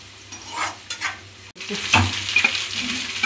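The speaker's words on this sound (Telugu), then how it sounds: "ఇప్పుడు మనం ఇందులో ఆనియన్స్ కట్ చేసి పెట్టుకున్నాం కదా అవి వేసేసుకున్నాము మిర్చితో సహా." Chopped onions and green chillies tossed into hot oil with cashews, stirred in a pan with a steady sizzle and a few scraping stirs; no talking.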